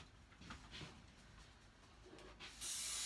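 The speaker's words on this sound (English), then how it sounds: "So we're just gonna spray section where the joins are" Adhesive spray hissing from an aerosol can onto the join sections of a pelmet box, quiet broadband bursts that swell into a loud, steady spray at the end.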